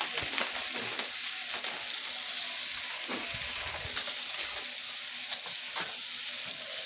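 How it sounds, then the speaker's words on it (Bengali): Tiger prawns, tomatoes and a spoonful of kasuri methi fry in a pan for a prawn and potato curry, giving a continuous hissing sizzle with occasional soft stirring scrapes. "টমেটোগুলো দিয়ে দিলাম, দিয়ে আবার একটু ভালো করে নেড়ে নেব"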